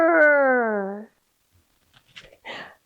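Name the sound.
children imitating a bear growl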